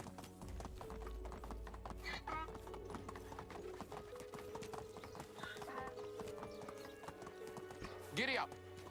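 Horse hooves clip-clop steadily in the video game Medieval Dynasty, close and clear, with a whinny near the end while someone speaks over them.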